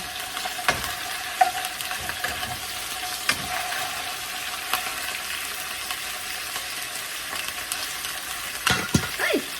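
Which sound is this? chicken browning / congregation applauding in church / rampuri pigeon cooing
chicken browning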